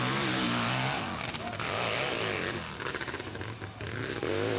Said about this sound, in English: Indiana, riding a Harley Davidson.